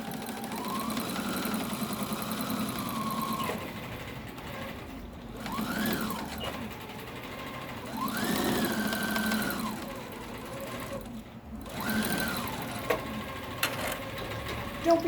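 A sewing machine runs a quarter-inch bottom seam on a fabric face mask, its steady motor hum rising and falling in several long stitching runs with brief pauses between, fairly quiet and close.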